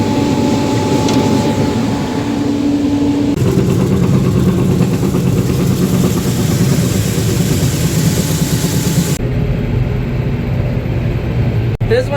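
Heavy farm tractor engine drones continuously at close range while pulling two grain wagons on the road, a loud steady low rumble with a shift in tone partway through and a sharp knock near the end.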